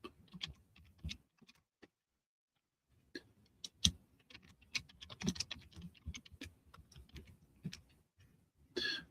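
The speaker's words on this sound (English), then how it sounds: "As soon as I type it." Bursts of close keyboard typing during a live online auction, rapid clicks in uneven clusters separated by short pauses, with a brief louder clatter near the end.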